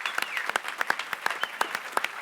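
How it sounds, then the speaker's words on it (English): Scattered clapping at a business awards ceremony, a sparse, fairly quiet patter of separate claps from a small audience, with no voices. "Let's give a round of applause for the Category 4 finalists."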